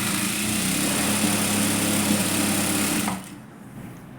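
A sewing machine runs a steady, fast whirring stitch for about three seconds while running a double seam on a katori blouse, then stops abruptly and leaves near silence.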